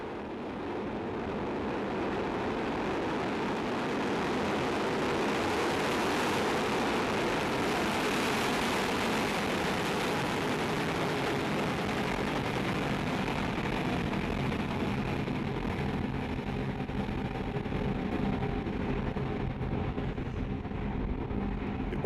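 Vega rocket flight VS09 lifting off with Galileo satellites 5 and 6: a steady, loud, broadband roar that swells over the first several seconds and holds as a dense continuous rumble throughout.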